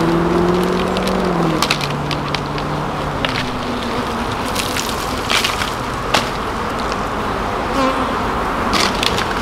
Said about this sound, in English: Very chill bees.